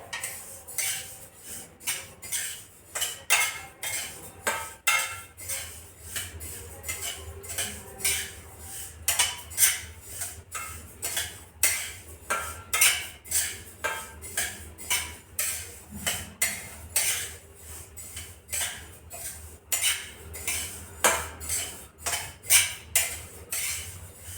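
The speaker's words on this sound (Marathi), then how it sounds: "अर्धे भाजून घेत आहे अर्धे अर्धे करून भाजायचे जेणेकरून छान भाजले जातात" Sesame seeds roasting in a pan while stirred, a rapid, rhythmic series of metallic scrapes and clinks of the spoon against the pan, steady and close.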